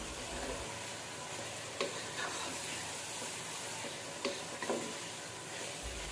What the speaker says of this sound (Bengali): মশলাটা খুব ভালোভাবে নাড়াচাড়া করে মিক্স করে দিয়েছি